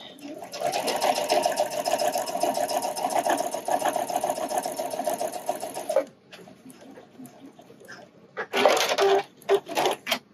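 A sewing machine sews a bra side seam in a steady, moderately loud run lasting about six seconds, then quiets to faint rustling before a few short bursts of machine noise and handling.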